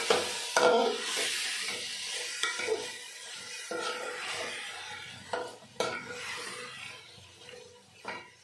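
Marinated duck meat is stirred and fried in an earthen handi with cooked spices, a close sizzling hiss broken by repeated scraping strokes of a spoon against the pot.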